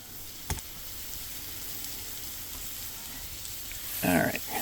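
BBQ chicken thighs sizzle steadily on a flat griddle, a soft continuous hiss throughout, with a brief tap near the start and a louder scraping stir of the meat near the end.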